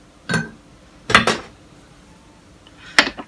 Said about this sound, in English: So I'm going to take the paddle off, and I'm going to attach my dough hook